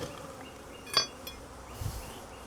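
A small honey bee colony hums around a hive during queen introduction, a continuous buzzing drone punctuated by a brief metallic clink and a soft rustle near the end, no talking.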